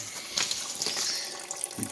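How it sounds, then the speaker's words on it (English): Radiator fluid drains from a loosened car radiator into a drain pan, a steady soft trickle of liquid that runs continuously at low level, close by. "It's draining into the pan as we speak."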